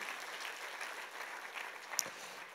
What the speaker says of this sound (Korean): 한 번 더 영광의 박수